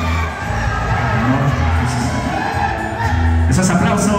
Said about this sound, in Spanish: Esos aplausos, señoras y señores, estos dos.